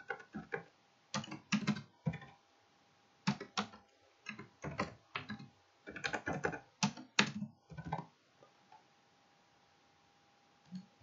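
Someone typing an email address and password on a computer keyboard while filling in an online admission form, with irregular bursts of close key clicks separated by short pauses, fairly quiet, no talking.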